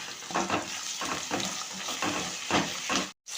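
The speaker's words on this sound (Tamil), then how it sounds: "வெள்ளைப்பூடும் வதங்கிட்டு இப்போ நம்ம தக்காளி போட்டு கொஞ்சம் கிண்டி விட்டுக்கிடுவோம்" Tomatoes and garlic sauté in a pan, a steady sizzle broken by rhythmic scraping stirs about every half second, close and moderately quiet, ending in a brief cut to silence.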